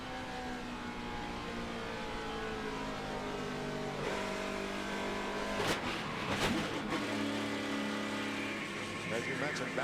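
A NASCAR Camping World Truck Series race truck engine roars at full throttle from onboard at Darlington in 2010, steady and loud, with rising revs and a few sharp bangs midway.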